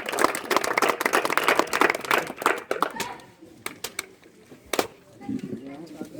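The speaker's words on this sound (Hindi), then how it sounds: "तालियां कम बजा रहे हैं आप लोग, कहा तालियां कम बजा रहे हैं" An audience claps to welcome a minister at a public event, giving dense applause for about three seconds before it thins to scattered claps, with a voice speaking over it.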